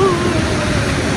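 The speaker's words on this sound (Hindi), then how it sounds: "लेकिन ये पानी इतना बह रहा है ना, इतने बड़े ढंग से, बहुत तेजी से बह रहा है ये पानी" Fast-flowing river water in a cold village forest stream rushes in a steady, dense broadband roar, close and loud for a brief moment.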